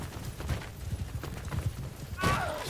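Horse hooves clip-clop in a rapid, uneven patter during a medieval video game battle, moderately close, with a short whooshing swing sound near the end.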